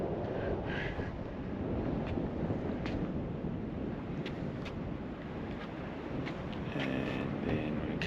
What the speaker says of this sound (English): It's quite windy out at the end here.